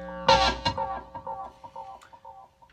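Cigar box guitar played through an amp with a harsh, obnoxious distorted effect: one loud strummed chord followed by a few quieter picked notes that buzz and decay over a couple of seconds.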